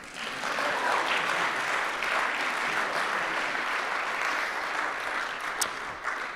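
An audience claps steadily for several seconds at a concert evening, a dense, even applause that swells early and tapers slightly toward the end, with no voices over it.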